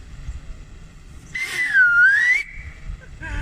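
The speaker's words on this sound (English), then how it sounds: "So now it's time to whistle" A clear whistled tone sliding down and back up, about a second long, over low rumbling background noise.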